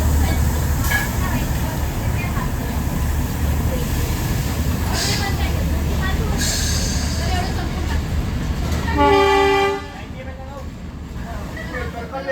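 Train on the Matheran hill railway in monsoon, a loud continuous rumble and hiss with a few scrapes and a tonal squeal near the end before it quiets, under faint babble of voices.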